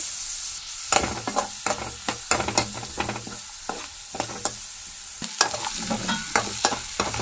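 Garlic, mustard seeds, chopped onion and curry leaves fry in oil for a Mangalorean thojank pelthari sukka, a constant sizzle punctuated by repeated rhythmic spatula scrapes and knocks on the pan, close up with no talk.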